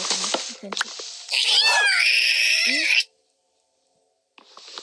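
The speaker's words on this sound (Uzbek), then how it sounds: "Voy, pishak keldimi deymi?" A cat lets out a drawn-out, wavering meow close by, followed by silence, with brief noises and voices around it.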